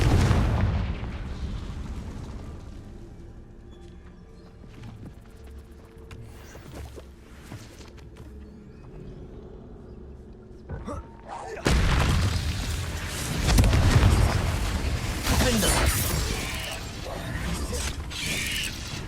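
A Confringo fire spell goes off in the Hogwarts Legacy video game inside a cave maze, a short burst after a quiet stretch, followed by a loud rumbling roar of blasts and debris that stays strong to the end.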